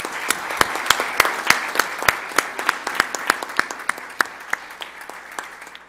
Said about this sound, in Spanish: pedirles un aplauso para los panelistas